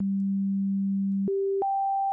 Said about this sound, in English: If I take something like Serum, let's say a sine wave,